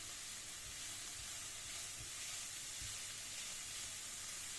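Leeks with salt and spices sautéing in a frying pan for a Turkish leek börek filling, giving a steady, close sizzling hiss throughout with faint stirring knocks and no talk.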